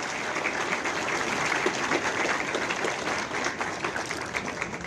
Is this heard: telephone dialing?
no